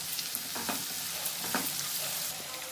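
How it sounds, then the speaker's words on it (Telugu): Pulla upma fries gently on a low flame in a pan, a soft continuous sizzle broken by a few quiet scraping stirs, close and faint with no talking. "సిమ్లో పెట్టి వేయించుకోండి, బాగుంటుంది."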